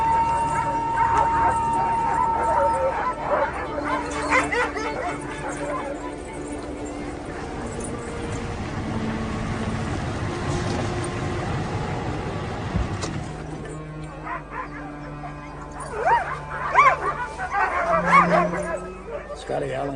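Several sled dogs, a team gathered for war training, bark, yip and howl in overlapping bursts, loudest near the end, under a narrator's voice and background music.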